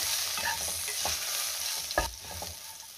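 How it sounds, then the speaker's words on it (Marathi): Green chilies frying with turmeric are stirred in a pan, a continuous close sizzle with scraping strokes and a firmer knock near the end, no voices. "आता आपल्याला त्यामध्ये हळद घालायची आहे। पुन्हा सगळं व्यवस्थित मिक्स करून घेऊया"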